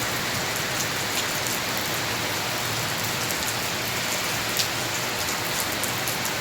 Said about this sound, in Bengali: বৃষ্টি হচ্ছে হালকা হালকা রোদ রয়েছে